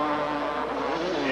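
Motocross motorcycles race in a Super Bowl of Motocross heat, their engines a loud, continuous high-revving drone that holds steady throughout.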